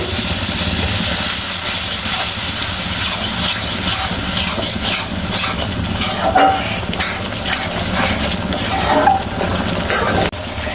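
A spice paste fries in a pan after water is added for a soybean nugget curry with coconut milk, cashew and poppy seed, giving a continuous loud hiss and crackle with bursts of sputtering.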